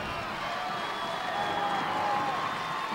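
A crowd of fans in the stands at a night high school football game between La Porte and Deer Park, a steady, diffuse murmur of many voices with a faint whistle-like tone running through it.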